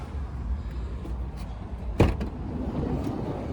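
A 2017 Toyota Tarago GLi's sliding door gives a single clear thud and rattle as it is slid along its track, set against a quiet low background hum.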